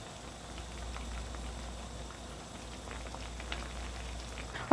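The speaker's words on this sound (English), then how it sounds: "All right, so it's at full boil" A pot of water bubbles at a full rolling boil while green beans are blanched, a steady soft fizzing and popping with no voices.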